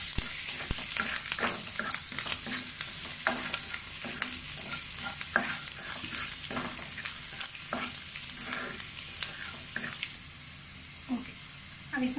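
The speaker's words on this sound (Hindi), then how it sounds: "और इसमें डालेंगे हम अपनी मिर्च, अदरक, लहसुन, हल्का सा फ्राई करेंगे।" Chilies, ginger and garlic fry in a pan for a bhindi do pyaza, a steady loud sizzle with frequent stirring scrapes throughout.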